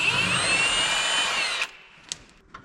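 A power tool whines loudly and steadily while removing bolts from a rock picker, then stops, followed by a few faint metallic clicks.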